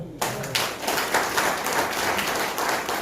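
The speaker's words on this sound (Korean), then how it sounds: "마지막 박수 한번 쳐보세요." Audience at a church seminar clapping together, a steady broadband patter of many hands that begins abruptly and holds at moderate level throughout, with no talking over it.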